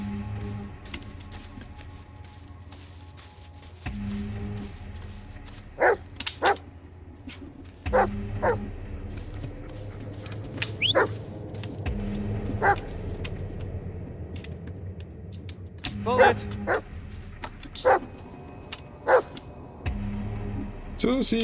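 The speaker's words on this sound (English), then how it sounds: "Good dog." A dog in the Blair Witch video game barks in short bursts and whimpers and yips between them, over a low droning game soundtrack with steady ambient tones.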